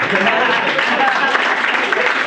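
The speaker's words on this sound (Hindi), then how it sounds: "तालियां बजाते रहिए बीच में" An audience at a Hindi poetry open-mic event claps, a dense, steady patter of applause running throughout, with voices mixed in.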